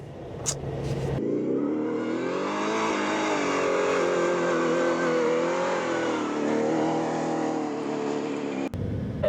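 A 2024 Ford Raptor R pickup truck engine roars steadily under hard acceleration up a desert sand dune, climbing and straining in pitch for several seconds, loud and close, then cuts off abruptly.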